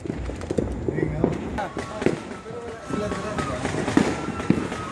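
Fireworks on New Year, a steady wash of distant popping and crackling with scattered bursts under ongoing chatter from nearby people.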